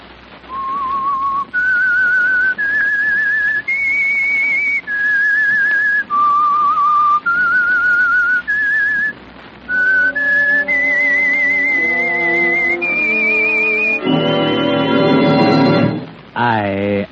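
A loud solo whistled melody of sustained, clean notes stepping up and down in short phrases, closing with a brief swell of orchestral music, as the signature signal for the Signal Oil radio program The Whistler.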